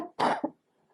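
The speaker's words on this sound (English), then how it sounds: "I'm coughing." A single person's short, forceful cough burst followed by a smaller second cough, close and fairly loud, then near silence.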